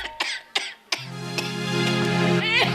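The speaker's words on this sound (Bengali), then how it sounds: "তোমার কাশিটা বেড়েছে বলনি কেন?" Several short, hoarse coughs from an older woman in a stage drama, three quick bursts close together, then a sustained tonal musical sound takes over.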